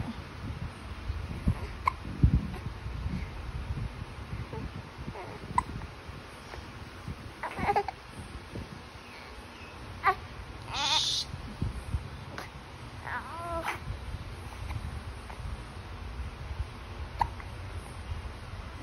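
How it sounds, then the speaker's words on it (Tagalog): Several sharp hiccups scattered across a quiet room, short and sudden, with faint voices and small background noises between them. "Yung sinok."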